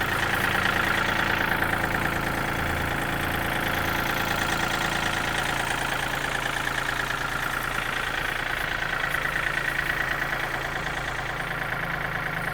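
A tractor engine idles steadily and close by, a continuous even rumble with a faint rhythmic knock and no voices.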